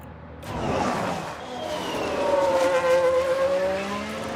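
Race cars in the F1 Manager 22 video game, one car overtaking another, their engines whining in rising and sliding tones that build over a few seconds, moderately loud with no talk over them.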